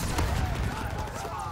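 A brief, dense burst of battlefield gunfire in Call of Duty WW2, with booming shots and rumbling noise under shouted voices.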